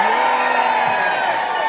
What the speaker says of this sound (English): I think a few more can cheer a little bit louder